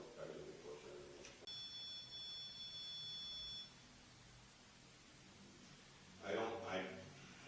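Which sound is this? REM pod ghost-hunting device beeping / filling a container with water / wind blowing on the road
REM pod ghost-hunting device beeping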